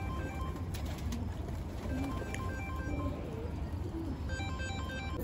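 Hyderabadi pigeons cooing softly among a coop's steady background noise, with faint tonal chirps scattered through the few seconds.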